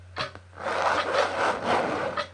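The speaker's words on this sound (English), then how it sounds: "Aggravated by this disruption, Hooley now moves to the window and scratches to get out." Claws scrape and rub against a window in quick rasping strokes, close and fairly loud, a few repeated scratching bursts in a quiet room with no talk.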